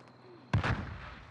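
A single sharp gunshot bursts out in a Call of Duty Warzone match, close and loud, with a rough echoing tail that fades over the following second.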